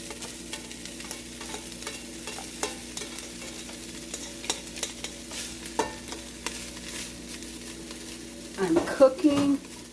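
Drained, cooked ground meat for a lasagna meat sauce sizzles in a pan over medium heat while a utensil scrapes and stirs it in irregular strokes, and a brief burst of speech comes near the end.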